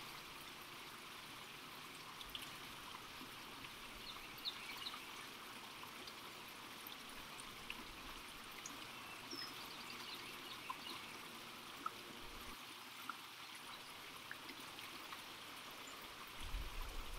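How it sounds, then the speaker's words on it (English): A stream with a small waterfall at a bend produces a continuous soft rushing trickle, faint and steady throughout, with no voices. "right here is a bend in the stream, a little waterfall."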